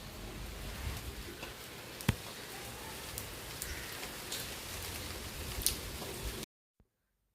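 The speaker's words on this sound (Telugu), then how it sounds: "అనుకున్నట్టుగానే వర్షం కూడా స్టార్ట్ అయిపోయింది" Steady light rain hisses with occasional drips tapping nearby, then the sound cuts off abruptly into silence.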